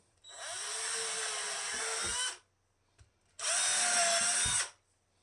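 A power drill bores 1/8 inch witness holes into a wooden Telecaster-style guitar body in two steady, loud high-pitched bursts of about two and one and a half seconds, separated by a short pause and a faint click.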